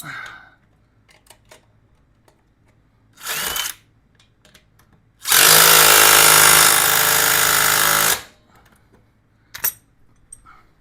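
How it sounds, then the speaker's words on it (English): A bolt on the exhaust of a 2023 Lifan KPM 200cc dual-sport motorcycle is tightened with a power tool: a short whirring burst, then a longer loud three-second run, among faint clicks and tool handling. "And then I'll tighten this other bolt up."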